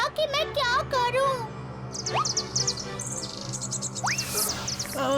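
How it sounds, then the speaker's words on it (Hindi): A cartoon bird's high, shrill screeching cries and chirps from Tooni rise and fall in several rapid bursts, loud and close, with a long sweeping squawk near the end over a busy animated background. "चिड़िया की चीख सुनते ही मैं डगमगा गया"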